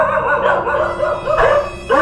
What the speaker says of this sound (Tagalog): Ay, lalaki ng aso.